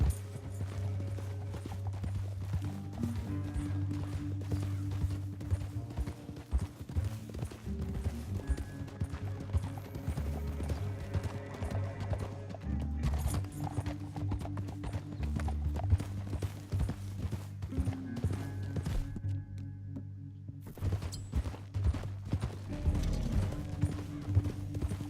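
Horse hooves in Red Dead Redemption 2 clip-clopping steadily at a riding pace across the whole stretch, joined by the low hum of game background sound, with no talking.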